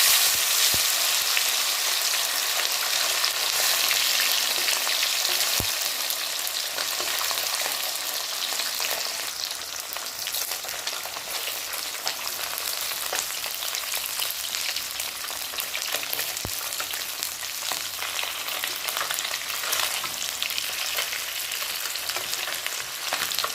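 Fish fries in hot oil in a wok while cooking an Assamese fish curry. A steady, dense sizzle crackles close up without a break, with a couple of sharp pops and no voices.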